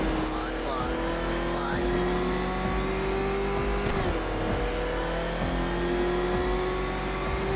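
In Arkham Knight, the Batmobile drives hard with a loud, sustained engine roar, rising revs, and brief tire squeals and impacts, while a voice talks over it.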